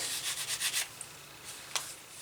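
Quick rhythmic rubbing strokes, close and brisk, as a leather wallet edge is sanded, then pause and give way to a few lighter scrapes while it is burnished.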